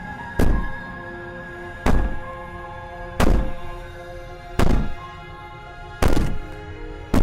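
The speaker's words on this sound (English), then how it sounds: "Maybe the banging and wailing will stop if you just don't pay attention to it" Heavy, muffled banging from the trapped princess in a video game, five loud thuds spaced about a second and a half apart. Each blow rings out over a low, steady background. No wailing stands out.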